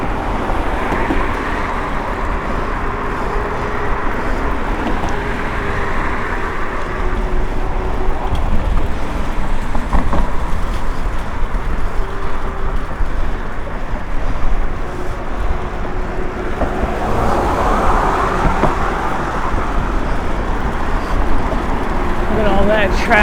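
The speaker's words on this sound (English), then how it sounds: "Traffic." Road traffic at night during a car commute, heard as a continuous rumble of engine, tire and wind noise from inside a moving vehicle, with people talking over it.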